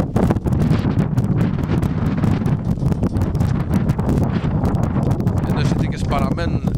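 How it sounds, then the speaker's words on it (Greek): Strong wind gusting across an open football pitch on Syros during a match, loud rumbling buffeting against the microphone throughout, with a commentator's voice running over it. "Ο άνεμος δεν λέει να κουπάσει."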